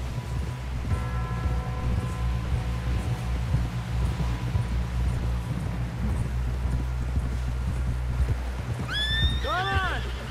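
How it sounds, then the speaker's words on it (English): Horse hooves clip-clop at a steady gait in the Western action game Red Dead Redemption 2, accompanied by a loud whinny near the end, with game ambience and music beneath. "Someone help John down off this horse."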